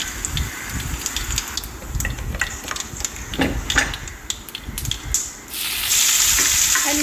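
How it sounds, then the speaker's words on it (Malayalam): Mustard seeds, urad dal and dried chillies sizzle in hot oil for a cabbage thoran, with a steady frying hiss and scattered sharp pops and crackles of seeds spluttering close by. "ചൂടായ എണ്ണയിലേക്ക് കടുക് ഇട്ട് കൊടുത്തു പിന്നെ നമ്മൾ ഇട്ട് കൊടുക്കുന്നത് ഉഴുന്ന് പരിപ്പാട്ട് ഇട്ട് കൊടുക്കണേ"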